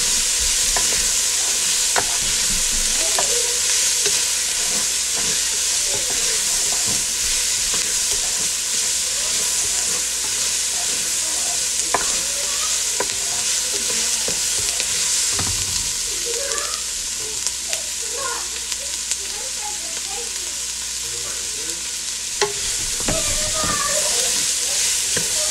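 Garlic tossed and sautéed in a hot pan, a steady close sizzle and frying hiss with occasional clinks and stirring scrapes running throughout, no talking.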